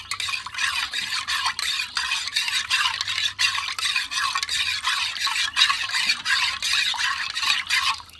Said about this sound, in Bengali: ভালো করে আমি ঘেঁটে দেবো